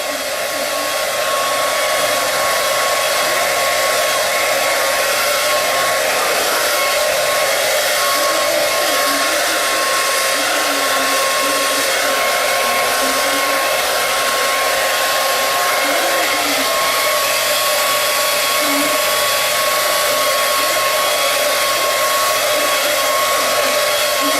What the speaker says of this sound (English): I have a Conair 1875 blow dryer, and I have it on warm settings.